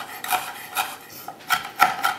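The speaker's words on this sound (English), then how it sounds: "Now hold the leaves as tightly as you can and finely slice" A knife finely slices tightly held winter savory leaves, giving a few short, crisp scraping cuts in an uneven rhythm, close and quiet with no talk.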